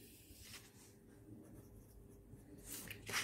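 Pen or chalk scratching faintly as someone writes out a geometry math problem, soft continuous strokes with a few louder taps near the end.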